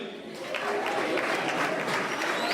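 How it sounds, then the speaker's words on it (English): A school audience applauds the winning debate team, with a burst of clapping that swells quickly after a brief quieter start and holds dense and steady. "Can you clap for them?"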